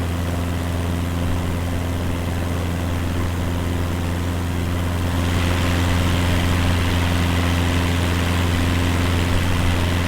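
Aircraft engine in Microsoft Flight Simulator 2020 over a Hawaiian island, a steady loud drone with a low humming tone and broad whooshing noise that swells slightly halfway through, continuous with no talk.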